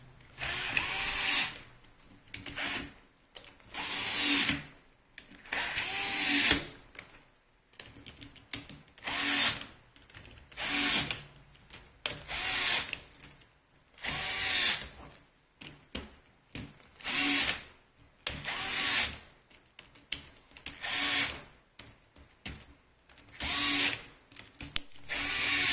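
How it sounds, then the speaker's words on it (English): A power drill or driver runs in repeated short bursts, roughly a dozen on-off pulses in steady rhythm, tightening nuts on a DIY lithium battery pack; close and clear with no talking. "So I'll go ahead and tighten the nuts."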